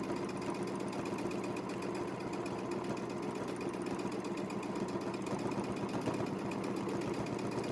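A sewing machine running steadily during free-motion quilting of a clamshell fill, a continuous fast mechanical hum and rattle at moderate distance with no talk.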